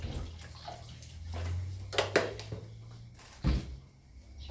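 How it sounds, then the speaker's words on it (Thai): Water splashes and pours into a cooking pot of partly cooked chicken with a low running rumble, broken by a few sharp clanks and knocks nearby. "เพิ่มน้ำเลยค่ะเพิ่มน้ำเลย"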